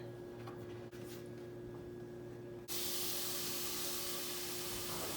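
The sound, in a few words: sausage sizzling in vegetable oil in a hot pan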